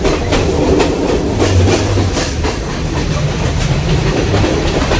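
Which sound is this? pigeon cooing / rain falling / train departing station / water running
train departing station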